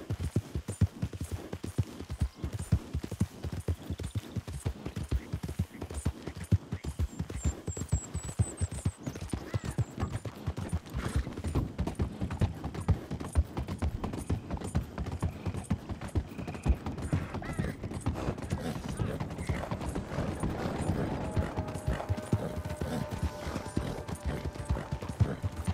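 Horse hooves beat a steady, fast rhythm in the video game Red Dead Redemption 2, pounding continuously and fairly loudly throughout a long stretch, with faint creaks and an occasional whinny behind it.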